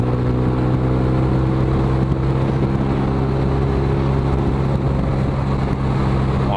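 A car cruising along a road gives a steady, droning engine hum with road noise that stays constant throughout, with no talking.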